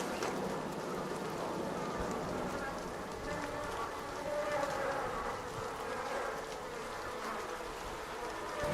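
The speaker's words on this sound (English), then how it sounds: "Those bees are starting to piss me off." Bees buzzing in Arc Raiders, a faint continuous insect drone mixed into a noisy rain-like outdoor ambience, steady throughout with no clear rise or fall.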